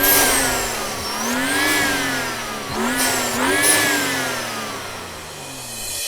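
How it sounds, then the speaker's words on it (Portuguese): An armored 470 hp BMW M135 with a turbo revs repeatedly, its whining intake and turbo spool rising and falling in smooth swells, with a sharp hiss of released air between revs and no talk. "quando a turbina começa a pressurizar, já consegue ouvir o filtro aspirando bastante ar"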